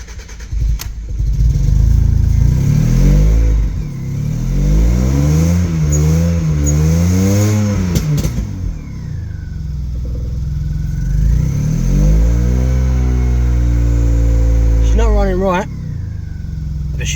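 An MG ZTT car engine starts and runs close by, revving up and down a few times before settling into a steady idle, with a person talking over it now and then.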